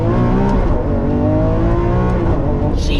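A 2022 Lamborghini Countach under full throttle, a loud engine roar rising in pitch from inside the car, with a brief shift blip near the end.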